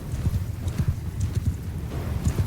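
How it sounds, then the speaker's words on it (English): Dense, continuous drumming of many horses' hooves galloping across a battlefield in Mount & Blade 2 Bannerlord, low and thudding with a steady overlapping rhythm, close and fairly loud. "I'm gonna send my horsemen after that horse archer"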